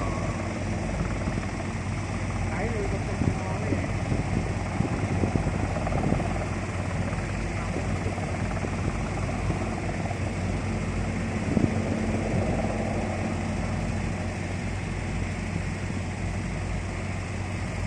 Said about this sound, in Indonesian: Itu adalah helikopter pembawa Presiden Joko Widodo yang akan mendarat di Bendungan Pidekso